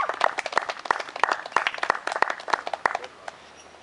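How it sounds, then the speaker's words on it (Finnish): A modest crowd at a Finnish athletics medal ceremony gives a short round of applause. The clapping is near, distinct and rhythmic, then thins out and fades near the end. "Aplodit näille rautapuolille."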